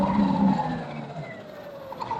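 A Sur Ron electric dirt bike runs at full throttle, flat out at about 31 to 32 mph, giving a continuous close rush of motor whine, wind and tire noise that eases slightly toward the end.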